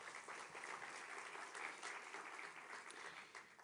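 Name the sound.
audience applause at a conference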